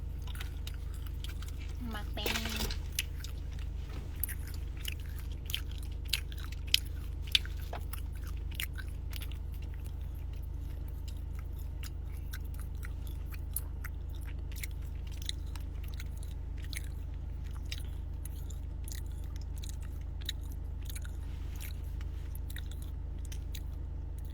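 Close, soft biting and chewing of food during a casual livestream mukbang, with small wet crunches and smacks scattered over about twenty seconds while people talk intermittently in the background.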